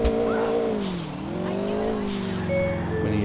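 Car in GTA IV revs and shifts pitch as it drives, engine tone dipping then climbing while tires squeal in short bursts, loud and close.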